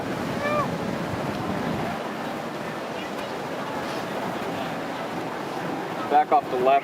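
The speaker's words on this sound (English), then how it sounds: "Big gusts right now." Strong gusts buffet the microphone across an open golf course at the PGA Championship, a continuous roaring rush with low rumble, steady for several seconds before short sharp bursts near the end, with faint voices beneath.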